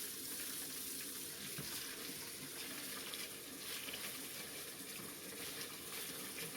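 Steady running cold water from a tap, a constant broadband gush with no pauses, fairly close and alone.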